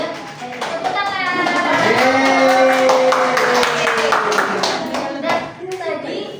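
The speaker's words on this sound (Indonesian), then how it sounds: "Dan tepuk tangan." A seventh-grade school class in Indonesia claps hands together in a classroom during a descriptive-text lesson, a dense burst of many hands lasting several seconds. Children's voices and talk are heard under the clapping.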